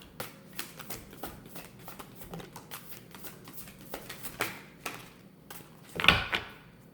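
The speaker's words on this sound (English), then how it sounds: "One more shuffle." Tarot cards are shuffled by hand in soft, irregular riffles and taps, close and fairly quiet, ending in a sharper burst of card snapping near the end.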